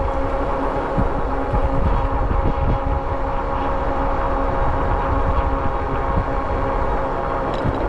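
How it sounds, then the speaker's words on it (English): Wind roars past a cyclist riding at about 20 mph on the upper Pinellas Trail loop, a loud, steady, broadband rush and rumble that fills the whole stretch with no voices. "A little windy right here."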